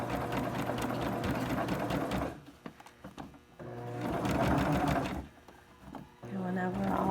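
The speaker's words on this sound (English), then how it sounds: "I'm just going to keep sewing." Sewing machine stitching a pleated fabric face mask and back-stitching over elastic, running in steady loud bursts with short pauses between runs. A voice talks over the stitching.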